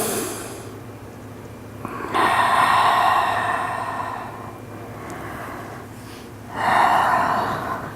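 Slow, deep breathing during a yoga forward fold, two long airy exhales swelling up loudly and close amid softer breaths, with no talking.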